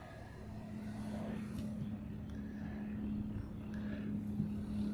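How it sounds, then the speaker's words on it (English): A Navy P-8 patrol jet at an airport in Hawaii, heard as a faint, steady low jet rumble with a droning hum, distant and unchanging over a few seconds. "this is a Navy P-8"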